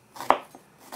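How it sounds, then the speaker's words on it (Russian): A knife chops onion on a cutting board for fish soup, giving two sharp, close thuds about a second apart with a fainter tap between them. "нарезать лук,"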